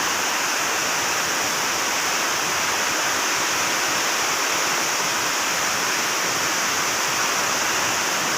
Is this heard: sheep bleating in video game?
no